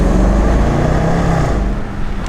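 A rebuilt Range Rover Sport drives along with a loud, steady engine and road drone heard from inside the cabin, a low continuous rumble with no breaks.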